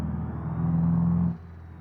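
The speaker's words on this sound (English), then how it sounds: "This car sounds so good." Car engine in the BeamNG driving game, a steady low hum with a droning tone that holds, then drops off abruptly to a quieter idle-like rumble near the end.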